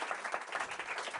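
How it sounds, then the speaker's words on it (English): A small audience gives a brief round of dense, steady applause for panel members at the Paris AI summit, heard at moderate distance and fairly quiet throughout. "Let's give them a little round of applause to get them warmed up"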